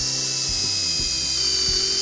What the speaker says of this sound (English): now I'm gonna go ahead and pre-drill the holes I need